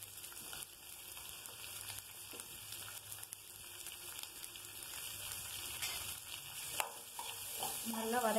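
Chopped onions with green chillies and dried red chilli sauté in a hot pan for maize paniyaram, giving a steady close sizzle and crackle throughout, with occasional stirring clatter near the end.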